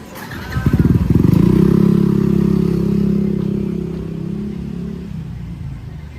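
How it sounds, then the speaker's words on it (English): A motorcycle engine rumbles and revs loudly as it passes close by on a busy street in Legian, Kuta, Bali, with other traffic noise behind it fading out after a few seconds. "the traffic in here is always traffic, as usually"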